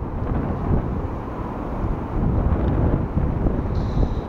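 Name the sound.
strong wind on the microphone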